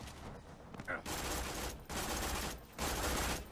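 Rapid automatic gunfire in Borderlands 2 comes in several dense bursts with short pauses between them, loud and close.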